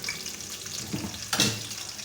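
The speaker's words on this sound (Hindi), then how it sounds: "अब हम इसमें प्याज डालेंगे, प्याज को ब्राउन करेंगे, तेल ब्राउन।" Onions hit hot ghee in a pot and sizzle softly, with a couple of short bursts of crackling as they are stirred in.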